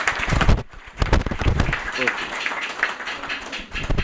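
An audience claps at a town hall twinning ceremony, a loud, rough patter of applause with thumps, while someone speaks over it through a sound system.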